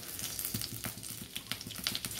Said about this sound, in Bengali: এবার আমি ফোড়ন হিসেবে দুটো তেজপাতা দিলাম,